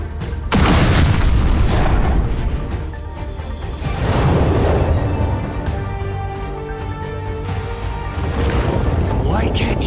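A Plasma Cannon attack in a My Hero Academia video game cutscene, a heavy booming blast that rumbles and roars loudly for several seconds, then a second surge, with game sound effects layered over it.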